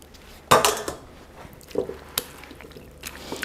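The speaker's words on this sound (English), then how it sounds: "Okay, so I have my mix, and here comes my potatoes." Boiled potatoes land in a bowl of potato salad mix with a sharp clatter of a utensil against the bowl, then a few soft wet squishes and light knocks that are quieter and spaced out.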